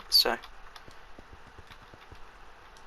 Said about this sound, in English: sorry about the fact you may be able to hear my keyboard and mouse in the background